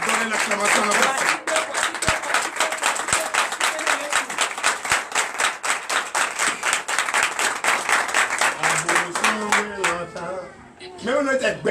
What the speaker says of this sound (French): Donnez l'acclamation à la personne.